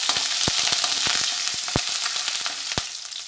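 Green chillies and curry leaves sizzle in hot oil for an onion chitranna breakfast, a steady close hiss broken by sharp crackles and pops, with no voices.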